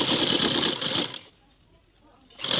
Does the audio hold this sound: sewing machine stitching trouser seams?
yes